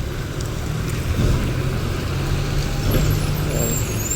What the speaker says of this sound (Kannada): ಒಂದು ಸಿಟಿ ಗಾಡಿ ಬೀದರ್ ಡಿ ಡಿವಿಷನಲ್ಲಿ ಸಿಟಿ ಗಾಡಿ ಬರ್ತಾ ಇರೋದು